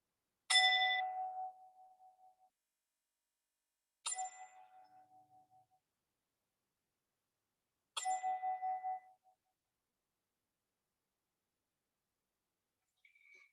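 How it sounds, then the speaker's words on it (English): A meditation bell is struck three times at the start of a yoga session, each clear ring decaying slowly over a couple of seconds, with long silences between strikes and a faint tone at the end. "I'm going to just ring the bell, just to allow yourself just to feel the vibrations"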